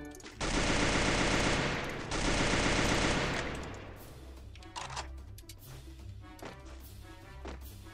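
Gunfire in the Free Fire battle royale game on the Bermuda map: two long, loud bursts of rapid automatic shots, then scattered quieter shots and game effects.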